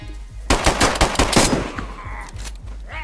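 Rapid bursts of automatic gunfire in the survival video game DayZ, loud and close, a dense volley of shots followed by a few scattered fainter reports.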